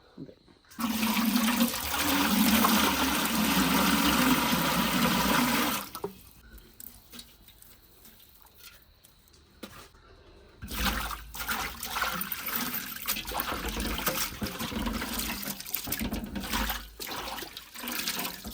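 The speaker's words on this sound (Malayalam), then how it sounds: "ഇതൊക്കെ നന്നായിട്ട് കഴുകി കൊണ്ടുവരാം" Herbs and leaves being washed under running water, a loud steady gush that stops abruptly, a few quieter knocks and trickles, then water flowing again more unevenly, with voices talking underneath.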